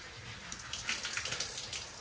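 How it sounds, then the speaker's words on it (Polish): A shower runs close by, its steady hiss splashing and spattering as the water is poured over a clothed person, with no talk. "Odkręć prysznic i po górze."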